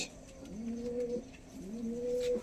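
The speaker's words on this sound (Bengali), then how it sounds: "এই যে পায়রা খুবই বসে আছে" A tournament flying pigeon at a home loft gives two rolling low coos in quick succession, close and clear over quiet background noise.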